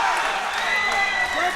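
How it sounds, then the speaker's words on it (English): Crowd at a live MMA fight night roaring during a late-round exchange, a dense, steady wall of cheering and clapping throughout, with a commentator talking over it. "The crowd is going nuts."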